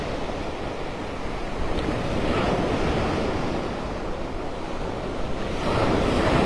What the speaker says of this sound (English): The waves are definitely a little bigger than they were yesterday.